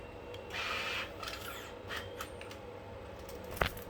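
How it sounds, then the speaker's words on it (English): Faint crinkling and rustling of aluminum foil in short bursts, papery scratches close by with a couple of sharper crackles near the end. "It's the freaking aluminum foil."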